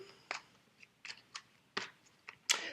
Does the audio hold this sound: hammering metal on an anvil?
no